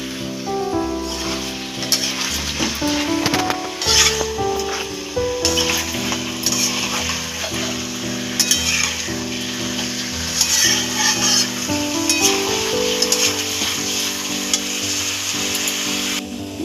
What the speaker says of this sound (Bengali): চিকেনগুলো ভালো করে এবার চিকেনগুলো ভাজবে